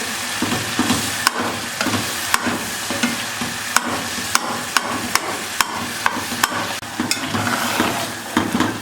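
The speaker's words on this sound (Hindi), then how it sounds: "इसको अच्छे से मिक्स कर लेंगे और मज़ीद 5 मिनट के लिए इसको भून लेंगे" Carrot halwa with khoya roasts in ghee to a steady close sizzle, punctuated by regular sharp taps and scrapes of a spoon stirring against the pan.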